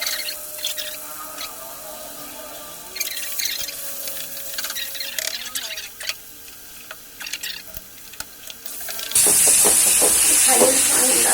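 Gram flour dry-roasting in a pan over a gas flame, stirred with a spatula: faint gritty scraping and small clicks, close up, with a louder steady hiss rising near the end.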